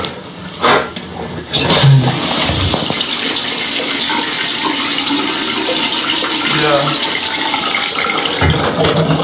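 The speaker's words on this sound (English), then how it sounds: "The fact that the water turns on by itself is strange enough." Water running in a house, a loud, continuous gushing and splashing like a tap or flush filling a basin, preceded by a few knocks and thumps and ending with a clunk, with faint voices in the background.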